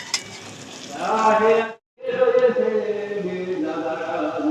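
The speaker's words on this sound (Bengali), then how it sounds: "এইভাবে লাল করে সব ভেজে নেব" Fritters of cashew, prawn and coconut sizzle in hot oil in a pan, a close crackling fry broken by a brief pause as they are turned, then bubbling on steadily.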